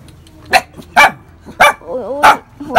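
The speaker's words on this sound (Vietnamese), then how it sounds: "Nó sủa. Sủa kìa." Dogs barking close by, five sharp separate barks in an uneven rhythm with a short whimpering whine between them and soft background noise.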